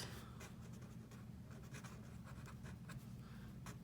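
Pen or marker writing out steps during a square-root lesson, faint scratchy strokes in short irregular bursts over a low steady background hum.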